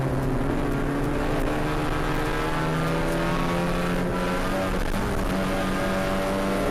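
Continuous loud engine roar of Ford Fiesta racing cars, a steady droning pitch with slight shifts as cars pass on the Knockhill circuit in Scotland, no talking.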